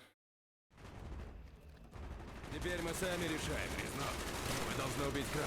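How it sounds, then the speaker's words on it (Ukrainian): After a brief silence, a steady clatter of Call of Duty: Black Ops gunfire builds up and keeps going, dense and rapid, with a voice under it. "Вони дуже різко стріляють."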